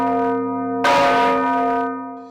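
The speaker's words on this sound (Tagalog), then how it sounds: "Ang tunog nito naririnig hanggang 8 kilometro ang layo." An antique church bell in Iloilo, cast in 1884, is struck once with a loud, bright clang, its deep sustained tones ringing on and slowly fading; no talking.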